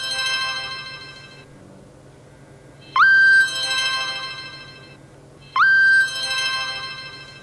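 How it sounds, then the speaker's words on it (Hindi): A phone ringtone plays a repeating electronic melody, each phrase opening with a bright rising tone, recurring about every two and a half seconds, clear and close. "फरवा बाजी का फोन, ये मुझे क्यों कॉल कर रही है?"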